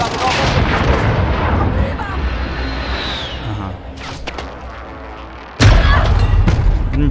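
A helicopter in a video game clips an obstacle and explodes: rumbling, crackling blasts and gunfire-like bursts, then a brief lull before a sudden, loud, close explosion.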